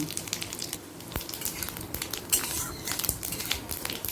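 Dried red chilli, a bay leaf and cumin seeds crackle and sizzle in hot mustard oil as a tempering for pea dal, a busy, uneven spitting with scattered pops and light utensil clinks.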